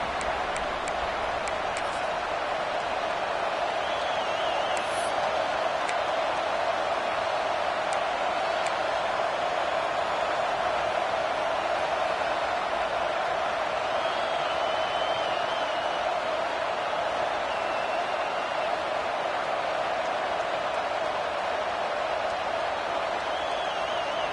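A steady, dense roar rises from the Auburn football stadium crowd during a late third-down play, a continuous wash of distant cheering and noise with no clear breaks.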